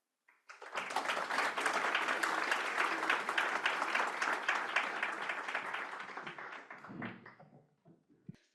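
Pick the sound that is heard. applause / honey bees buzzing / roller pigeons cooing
applause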